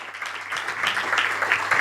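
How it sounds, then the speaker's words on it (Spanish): A debate audience applauds, a dense, steady wash of clapping that holds at an even level for a couple of seconds, fairly close, without speech over it. "quiero un aplauso para él"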